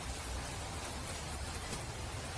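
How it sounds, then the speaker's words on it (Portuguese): Rain falls steadily outdoors beside a clothesline where freshly washed laundry is being hung, a continuous soft hiss with low rumble, no voices. "A chuva começou."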